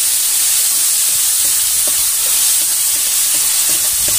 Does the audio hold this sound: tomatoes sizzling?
yes